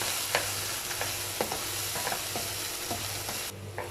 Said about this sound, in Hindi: चने जो हैं ये अच्छे से भुन रहे हैं